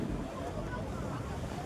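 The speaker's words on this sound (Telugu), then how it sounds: "ఇక్కడ వచ్చేసి చాలా గాలి వస్తుంది" Strong wind gusts buffeting the microphone by the sea at the Vivekananda Rock Memorial in Kanyakumari, a steady low roar with faint water and surf underneath, continuous and close.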